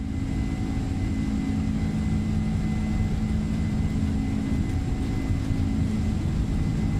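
Boeing 767 freighter jet engines spooling at takeoff thrust in a flight simulator game, a loud, steady low roar with a constant drone and faint high whine, unbroken and with no speech.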